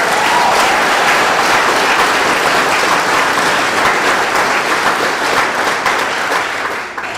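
An audience claps in sustained, dense applause, loud and close, holding steady before tapering slightly near the end.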